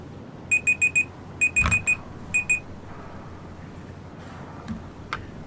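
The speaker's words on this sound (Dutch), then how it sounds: "Daar ging mijn alarm." An alarm in Battlefield Hardline goes off as rapid clusters of bright electronic beeps, four quick pulses, a pause, another four, then two more, loud and close before falling quiet.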